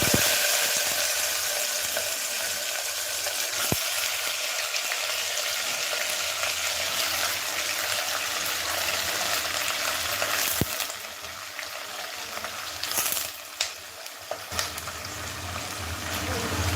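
Washed vegetables sizzling in hot oil with cumin for street-style butter pav bhaji, a steady loud fry crackle throughout that eases a little near the end, with a few scrapes of stirring.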